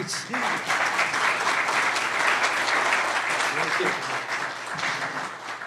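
Audience applause at an award event for a student film, a continuous wash of clapping at steady volume, with voices mixed in beneath it.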